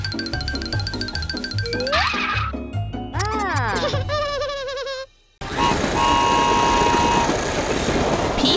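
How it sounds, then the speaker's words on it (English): Cartoon toy train running, with a rhythmic clatter and bright whistle-like tones, sliding tonal sweeps, and a brief dropout before a denser, noisier stretch of motion sound. "Pea Pea is playing with a toy train."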